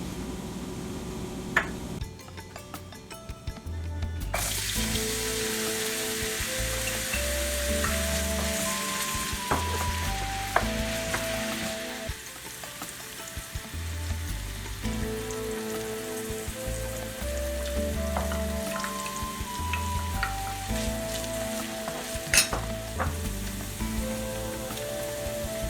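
Almost two tablespoons of vegetable oil sizzle in a preheated pan for a Filipino bamboo shoot and shrimp dish, with a steady crackle running the whole time beneath melodic background music.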